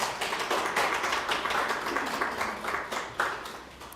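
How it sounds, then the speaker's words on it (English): An audience in a room claps in a steady, dense patter of close hands that continues throughout. "I want you to see your applause"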